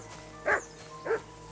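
A dog in the medieval video game Kingdom Come Deliverance 2 lets out two short woofs about half a second apart over a quiet, steady background.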